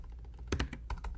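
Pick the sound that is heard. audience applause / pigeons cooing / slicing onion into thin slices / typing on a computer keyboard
typing on a computer keyboard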